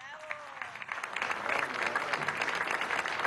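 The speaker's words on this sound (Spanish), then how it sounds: "Un aplauso a los músicos." Applause from an outdoor crowd at a tourism event on Margarita Island, Venezuela, in honour of the musicians playing cuatro, mandolin and bass; clapping swells from moderate to a dense, loud, sustained patter.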